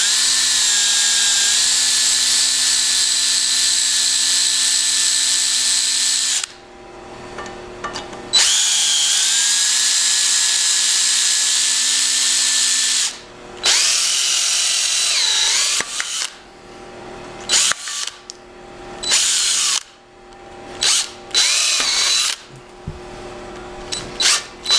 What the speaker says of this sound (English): I just put a 3/16 bit in there, and we'll just drill those out